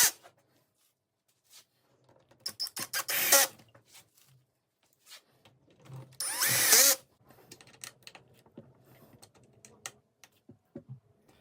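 Power tool driving bolts into the intake manifold of a BMW E91 330d M57 diesel, two distinct whirring bursts separated by quiet gaps with small clicks and handling noises between, close-up in a garage.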